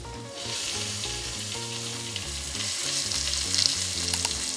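Steady sizzling of boiled, chopped potatoes frying in ghee, close and continuous, with a soft background hum and occasional crackles.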